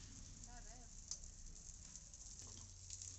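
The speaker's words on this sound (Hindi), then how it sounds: "कड़ी में तड़का लग चुका है" Steady broadband sizzle of ghee frying for tempering kadhi, continuous and fairly close, with a brief faint voice and a few small clinks.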